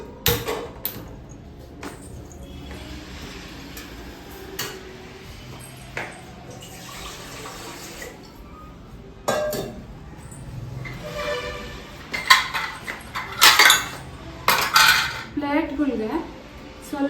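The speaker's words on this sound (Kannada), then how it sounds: "ಇಲ್ಲಿ ಇಡ್ಲಿ ಪಾತ್ರೆ ಇಟ್ಕೊತಾ ಇದ್ದೀನಿ" An idli steamer vessel is set down and handled with scattered metallic clanks and clatters, some sharp and near, amid running water and kitchen background noise.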